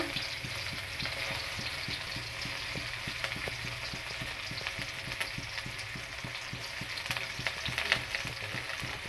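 Green chili and chopped onion fry in a pan for a red amaranth vegetable dish with a dense, crackling sizzle and fast, rhythmic spatula ticks running throughout, steady and close, with no talk.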